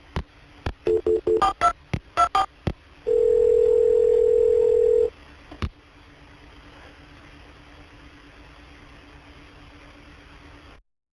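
Telephone line after a call transfer: a quick run of DTMF dialing beeps, a steady two-second tone, then a click and a long stretch of faint line hiss before it cuts off.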